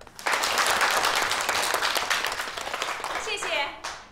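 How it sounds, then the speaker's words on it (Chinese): Children in a village primary school classroom burst into warm applause welcoming their new volunteer teacher, loud continuous clapping that starts abruptly, holds for a few seconds, then thins out as a voice begins. "那我们用最热烈的掌声欢迎我们的索菲亚老师到来"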